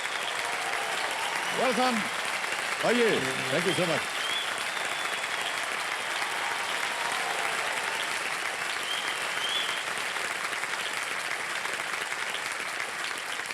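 Studio audience applause fills a KBC game show set as an actor and a guest are welcomed; the dense, sustained clapping runs throughout, with brief speech over it near the start.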